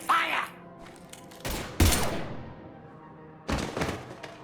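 Gunfire in the video game Mass Effect 3: a few heavy, separate bursts of shots with quiet gaps between them, loud and close, with no talking over them.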